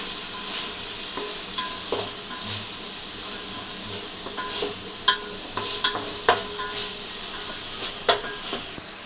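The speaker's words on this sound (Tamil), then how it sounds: "கொத்தமல்லி புதினாவும் போட்டு தக்காளி நல்லா வதங்கட்டும்" Steady sizzling and hissing from tomatoes, coriander and mint sautéing in a pan, with occasional clinks and scrapes of a utensil stirring.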